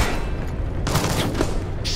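Dense gunfire in the stealth shooter Splinter Cell: Blacklist, a loud continuous fusillade of overlapping shots and booms filling the whole two seconds, heavy and close.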